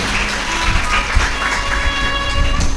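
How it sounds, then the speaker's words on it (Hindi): A large audience at a live Shiv Mahapuran katha gathering in Bhilai claps in sustained, dense applause to welcome someone, loud and steady throughout. "एक बार ताली बजाकर जोरदार स्वागत करते हैं।"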